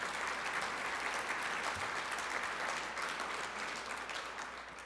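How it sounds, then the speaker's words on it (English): A gala audience applauds steadily, dense sustained clapping from a large crowd that holds its level and tapers slightly toward the end. "And that does deserve a round of applause."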